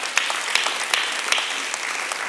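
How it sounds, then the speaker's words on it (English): Church congregation applauding: steady, even clapping from many hands at moderate distance, with a few sharper individual claps standing out, continuing without break. "just like you clapped right now"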